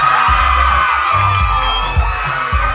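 A loud school crowd cheers and shouts for a contestant at a Beleza Negra beauty pageant, with whoops over a rhythmic pounding of drum-like thumps.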